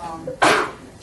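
A single short sneeze bursts out in a community board meeting room, fairly close and loud, with faint background murmur before it.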